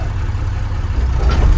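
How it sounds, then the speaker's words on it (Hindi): A Tata 2518 tipper truck's diesel engine runs with a steady low rumble, close and continuous, swelling slightly in loudness toward the end, with no talking. "तो चलते हैं, चला के देखते हैं टिपर"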